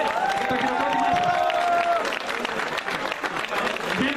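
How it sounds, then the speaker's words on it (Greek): Audience applause at a prize-giving ceremony for a road race at Vergina, Imathia, Greece: a dense, steady clapping crowd that fills the whole stretch, with some voices and cheers mixed in. "Και το χειροκρότημά σας."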